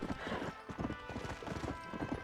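Horse hoofbeats from the video game Red Dead Redemption, a quick, even clip-clop of galloping hooves, fairly faint and close, running steadily throughout.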